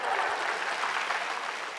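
A talk show studio audience claps steadily, a soft, even wash of applause lasting a couple of seconds without pause.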